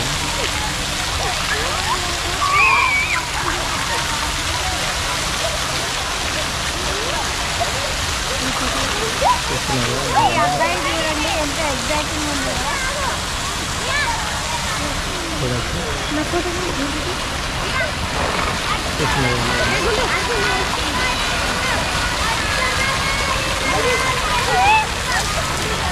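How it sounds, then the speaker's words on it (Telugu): A sudden surge of water pours down all at once and splashes over people in a continuous rushing wash, with voices talking over it throughout. "వాటర్ మొత్తం ఒకేసారి రావడం జరుగుతుంది"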